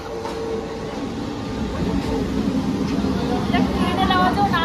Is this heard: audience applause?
no